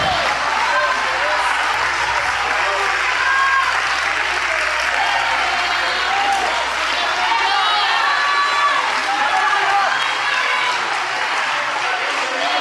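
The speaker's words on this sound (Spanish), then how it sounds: "Ponte en tus pies y dale un aplauso al Señor Jesucristo, por favor." A church congregation on its feet applauds for Jesus Christ, sustained loud clapping from a large crowd with scattered cheers and voices mixed in throughout.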